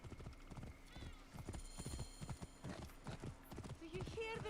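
Horse hooves clip-clopping at a steady trot in the video game Assassin's Creed Origins, a rhythmic run of distinct hoofbeats with a whinny near the end, over game music and ambience.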